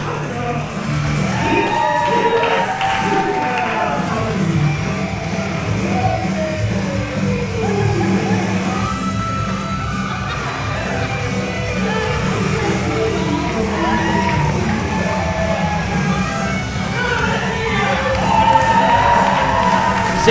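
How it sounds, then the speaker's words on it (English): A professional wrestling crowd at an Outcast Pro Wrestling championship show yells, cheers and whoops continuously, a dense, loud wash of many voices with scattered shouts rising above it throughout. "firing up the crowd"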